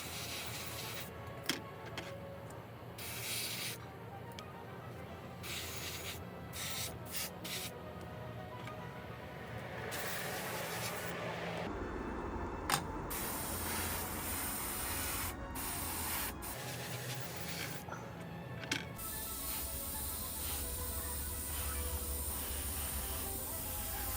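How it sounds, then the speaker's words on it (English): An airbrush sprays khaki paint onto MiniArt RSO/01 model kit parts in soft, close hissing bursts that stop and restart, quiet and alone with no talk. "I'll just use what's left in the airbrush to lay down that coat of khaki"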